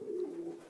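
A racing pigeon gives a single soft, drawn-out coo close by, steady and low, with quiet background and no talking.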